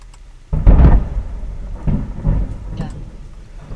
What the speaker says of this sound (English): big strike of lightning behind you